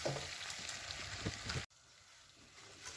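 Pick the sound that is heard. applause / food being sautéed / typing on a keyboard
food being sautéed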